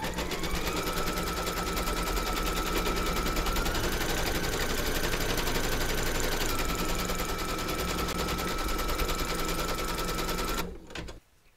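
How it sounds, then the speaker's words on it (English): Embroidery machine stitching batting onto a hoop for a bunny project, a loud, steady, rapid mechanical chatter running continuously for about ten seconds before stopping abruptly. "Pop your hoop into your machine and stitch round number two to secure it"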